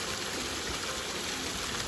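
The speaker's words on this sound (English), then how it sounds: "got a nice little stream there" A small stream flows on a Lake District hillside at night, giving a steady, close, broadband rush of water that stays even throughout, with no voices.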